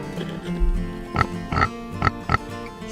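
Pig oinks from a toy farm-animal puzzle, four short grunting bursts in a brief rhythmic series at close range, sounding over faint background tones with no talk.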